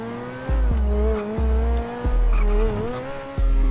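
A Suzuki Alto car in the video game GTA 5 jumping and landing, its engine droning and shifting pitch while tyres squeal and thumps of impact recur at intervals, loud and close.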